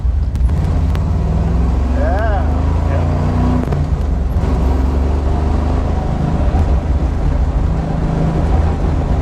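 A 1971 Chevy Camaro engine drones steadily from inside the cabin while driving, a loud low rumble with road noise throughout, as someone briefly speaks.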